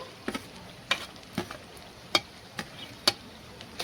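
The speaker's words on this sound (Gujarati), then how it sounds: "તો આ ક્રશ કરેલું લસણ આપણે 1 થી 2 મિનિટ સુધી સાંતળવાનું છે સરસ તેલમાં" Crushed garlic sautés in oil over fried onions for Visnagar-style tuver totha, a soft sizzle broken by regular scraping stirs about every half second, fairly quiet and close, without talk.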